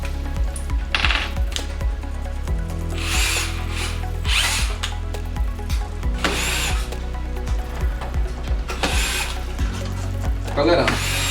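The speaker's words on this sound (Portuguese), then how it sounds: "A gente vai remover 3 parafusos de Phillips." A power screwdriver whirring in short bursts as it backs out Phillips screws from a PS4 heatsink, with small metallic clicks and a steady low hum underneath, heard up close.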